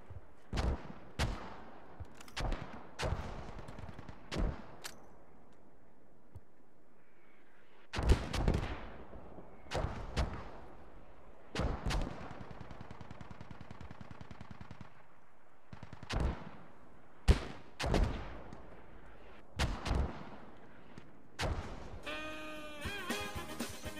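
Gunfire in the video game Squad: scattered single shots and short automatic bursts, some close and sharp, others quieter and distant, separated by brief quiet gaps.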